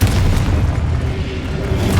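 A Confringo fire-blast spell explodes in Hogwarts Legacy as a loud, sustained booming roar with deep rumble that fills the whole moment, no voices over it.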